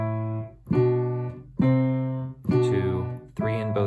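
Piano phrases played with both hands moving in mirror motion, four separate struck chords with ringing sustain, close and clear with no talking.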